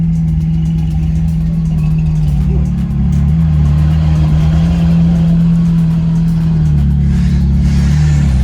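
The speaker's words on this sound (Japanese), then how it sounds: "すんごい車が来てる" A modified Ferrari pulling up at a Freedom Cruise car meet runs with a loud, steady low engine drone that swells slightly in pitch partway through, with faint voices in the background.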